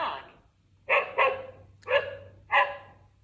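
Four short, loud dog barks from a children's farm-animal sound book, spaced in an irregular rhythm with a faint low hum beneath.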